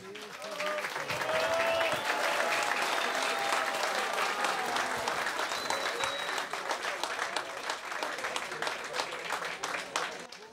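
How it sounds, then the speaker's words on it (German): An audience at an Oktoberfest music show applauds warmly for roughly ten seconds. Dense clapping swells quickly, holds and slowly tapers, with crowd voices mixed in. "Ein Applaus"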